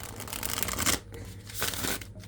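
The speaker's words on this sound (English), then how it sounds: "shuffles and bridges really nicely" Tarot cards with a smooth cardstock being riffle-shuffled and bridged by hand, giving close, crisp bursts of flapping paper with brief pauses between shuffles.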